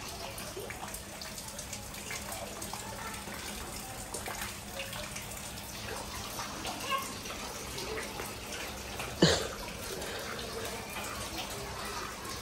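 Floodwater flows through a village with a steady, broad rushing wash that holds at an even level throughout. One brief louder splash or knock rises above it near the end.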